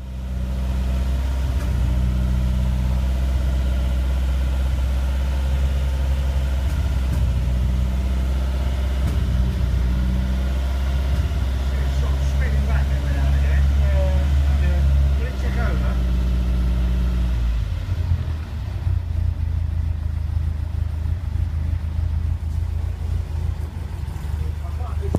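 A Lancia Stratos with a 2.0 8V engine runs at a loud, close idle, a deep steady rumble with a slight lope. Partway through, the engine note drops and settles lower.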